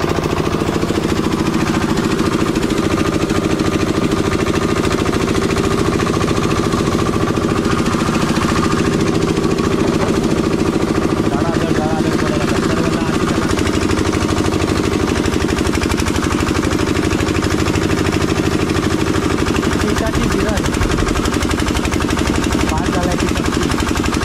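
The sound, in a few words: ice machine running at fish market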